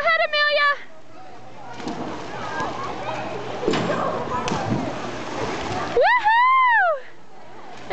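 A child leaps off a diving board into a swimming pool, landing with a loud splash and churning water, while voices speak and shout before and after.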